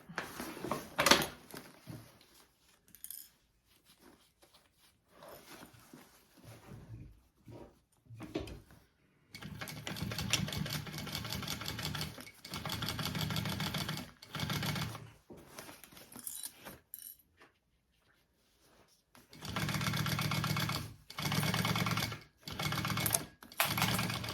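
A sewing machine stitches up a pocket in repeated bursts of fast, close mechanical whirring separated by short pauses and small handling clicks.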